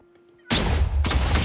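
Two loud, close explosions in the Minecraft video game blowing up a group of rats, each a sudden broadband blast followed by a rumbling tail, the second coming about half a second after the first.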